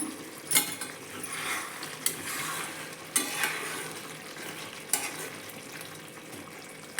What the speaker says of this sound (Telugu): ఇప్పుడు ఇందులో కొత్తిమీర కొంచెం చల్లుకునేసి మిక్స్ చేసుకునేస్తాము